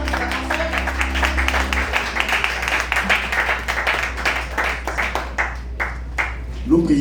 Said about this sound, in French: Est-ce qu'on acclame pour notre serviteur?